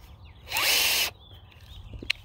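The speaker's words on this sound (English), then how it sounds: "we put it on the drill" A power drill spinning a spin art painting whirs loudly in one burst of about half a second, then stops, followed by faint small clicks and handling noises.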